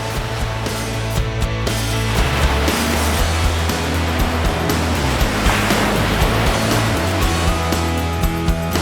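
Ocean surf rolling onto a surfing beach near Busan, a steady, dense wash of breaking waves that fills the whole stretch without pause, loud and close, with no voices.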